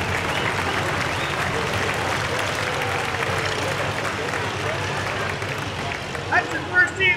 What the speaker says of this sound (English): Give Ricky a round of applause